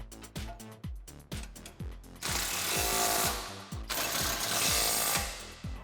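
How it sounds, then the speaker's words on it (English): Power tool tightening the rear shock and quad shock bolts on a 1994-2004 Mustang during a coilover install, loud repeated rattling hammer bursts in quick succession, then a longer sustained burst of impacts, close up and with no talk. "I'm going to tighten up all my shock and quad shock bolts in the rear"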